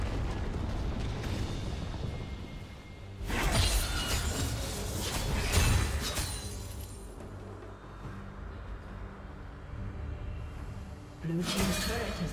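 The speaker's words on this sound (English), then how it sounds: "Blue team's turret has been destroyed." Turret destruction explosion in League of Legends, a top-lane Pantheon versus Renekton match: loud broadband blasts with rumbling debris at about 3 and 6 seconds, another burst near the end, over continuous game noise and an announcer voice.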